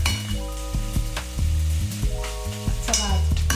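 Onions and garlic frying in a pan for shrimp fettuccine Alfredo: a soft, steady sizzle sits beneath prominent background music throughout.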